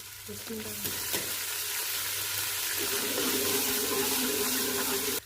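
Steady sizzling of onion and crushed ginger frying in a pan for saag tempering, loud and continuous, with faint stirring scrapes near the start and no talking.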